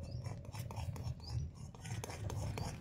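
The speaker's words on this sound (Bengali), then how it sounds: "এর মধ্যে অল্প অল্প করে দিতে থাকবো, আর এইরকম করে মেশাতে থাকবো" Rice flour being mixed by hand into dough for bhapa pitha, a soft gritty rubbing and scraping at close range, irregular and continuous, with faint background noise.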